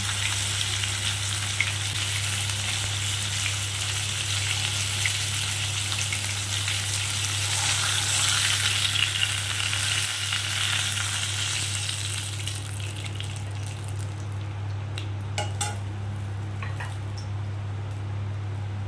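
Pomfret fish frying in oil, a steady close sizzle over a low constant hum, with a few faint pops and clicks toward the end.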